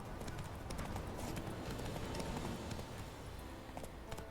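Roach, the horse in the video game The Witcher 3, gallops with quick rhythmic hoofbeats over a faint, steady in-game background, fairly soft and at mid distance.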